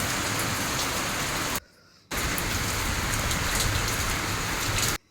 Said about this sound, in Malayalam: ഇപ്പോഴും പുറത്ത് ഭയങ്കര മഴയാണേ